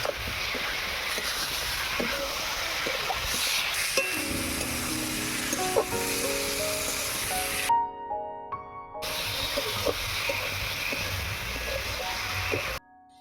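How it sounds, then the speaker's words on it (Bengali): Potatoes and pointed gourd frying in spice paste in a pan, steady loud sizzle with spatula stirring scrapes, a brief quiet pause midway, then sizzling resumes. "আলু পটল দিয়ে দিয়েছি, এবারে ভালো করে কষিয়ে নেব।"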